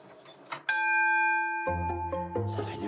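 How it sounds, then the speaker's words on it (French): Railway station bell rung by the station master pressing a button, a loud electric ding-dong with a sustained, resonant ring that starts abruptly, holds for about a second, then strikes again twice with ringing overtones. "le chef de gare appuyait sur ce bouton et faisait sonner cette cloche"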